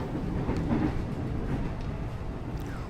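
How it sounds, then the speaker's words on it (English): A commuter train in Jakarta, a set formerly run in Japan, gives a steady, loud rolling rumble for about three seconds, with faint clatter and no talking. "This is what our commuter train looks like in Jakarta."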